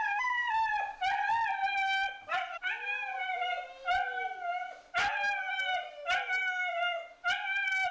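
Huskies howl and yip in repeated wavering cries, several voices overlapping, loud and close, with short pauses between bursts.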